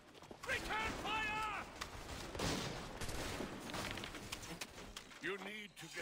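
Gunfire in Assassin's Creed III, scattered musket shots crackling through a battle, mixed with shouting voices and a constant loud din of the fight.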